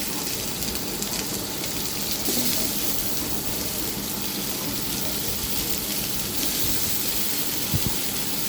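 A kilogram of sweet pumpkin goes into a hot pan with green chilies for a Bengali bottle-gourd fry, giving a steady, loud, rain-like sizzle that holds throughout without speech.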